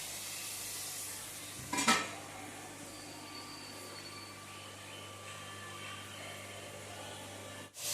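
Telangana onions fry with a steady, even sizzle in a pan, broken by a brief scraping stir near the start and a short knock toward the end.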